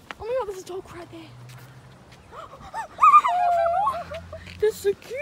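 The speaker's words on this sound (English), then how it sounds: "there's a dog right there" A dog behind a fence yips, whimpers and barks in short bursts, fairly close, mixed in with excited people talking over it throughout.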